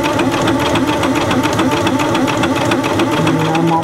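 A sewing machine stitches a quilt seam at a steady moderate speed, producing a loud, even, rapid mechanical whir and needle chatter close up with no voices.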